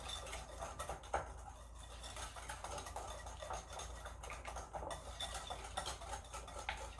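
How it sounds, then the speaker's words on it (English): A whisk scrapes and clatters steadily against a bowl of chocolate lava cake batter, a fast continuous rhythm held close and moderately loud, with no voices over it. "if you whisk it extra hard for like a minute, it ends up getting really glossy"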